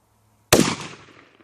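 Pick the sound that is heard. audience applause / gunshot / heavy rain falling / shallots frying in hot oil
gunshot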